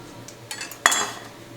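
Sharp kitchen knives, a chef's knife among them, being handled and set down during pumpkin canning prep, giving a few light metallic clinks with one sharper clatter near the middle, close and clear with no talking.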